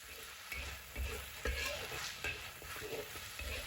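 Dried chilies and chili bean paste stir-fry in a wok over low heat, a continuous close sizzle broken by repeated scraping strokes of a spatula against the pan.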